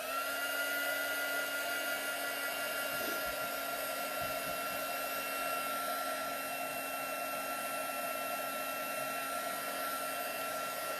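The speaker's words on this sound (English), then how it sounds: "Now I'm drying the board." A hair dryer runs steadily and loudly throughout, drying a board with a constant whirring hum and high airy hiss, with only a brief clunk of handling early on.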